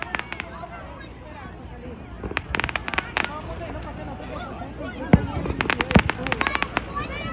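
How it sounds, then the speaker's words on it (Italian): Independence Day fireworks in America go off repeatedly in the distance, sharp pops and crackling bursts coming in clusters while people talk nearby. "ci sono anche fuochi di artificio dietro in continuazione"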